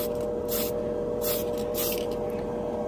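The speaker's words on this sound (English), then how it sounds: "This is the light gunmetal. The spray can." A Tamiya spray can hisses out light gunmetal paint in three short bursts, the close, loud airy spray cutting on and off over a steady room hum.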